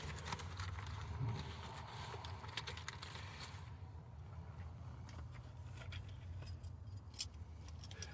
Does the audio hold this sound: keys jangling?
yes